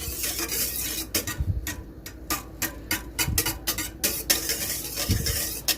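A spoon stirs homemade Moroccan soap made with traditional oil in a pot, giving repeated sharp metallic scrapes and clinks in an uneven rhythm with a faint bubbling underneath.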